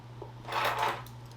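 A set of keys dropped into a Strathberry Multrees leather hobo bag, a brief cluster of metallic jingling and clinks lasting under a second over a steady low hum, close and fairly quiet.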